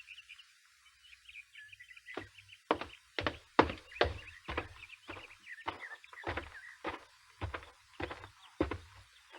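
Hoofbeats from a saddled horse in a 1959 radio western, a series of sharp, irregular thumps and clops ringing out close by, with faint bird calls in the background and no talk.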